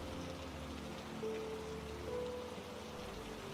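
Steady, soft rain falls outside a cottage during a storm, a continuous faint hiss with no voices, holding an even level throughout.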